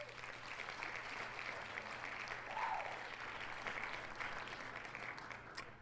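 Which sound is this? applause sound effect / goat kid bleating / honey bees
applause sound effect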